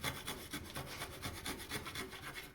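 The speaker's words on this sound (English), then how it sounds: "you can use that, look, to just flatten off the bottom of that joint" A sharp chisel paring the bottom of a wooden cross halving joint flat, a close, quiet, rhythmic rasping scrape repeated in even strokes, with no voices.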